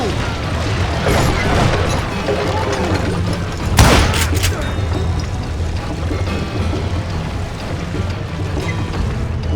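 Gunshots in the western shooter game Call of Juarez: Gunslinger, a loud sharp shot burst standing out mid-clip over a busy bed of game sound and noise.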